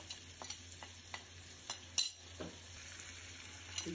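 Ground spices, including chili, turmeric, coriander and cumin, fry in a pan. A faint crackle sits under a steady hum, broken by light, regular ticks and taps of a spoon.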